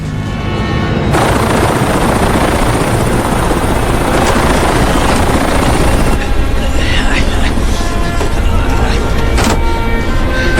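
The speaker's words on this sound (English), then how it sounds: "The helicopter's gonna leave." A helicopter roars loud and steady throughout, its dense rotor and engine noise filling the scene from a war action film, with a shift in tone partway through as the aircraft prepares to leave.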